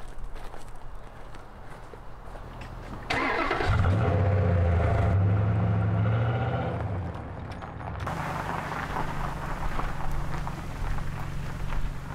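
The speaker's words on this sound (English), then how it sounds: "I'll pull my truck around to the front." A pickup truck engine rumbles nearby and builds as it pulls around, loud and steady in the middle before settling into a lower idle hum, with no talking.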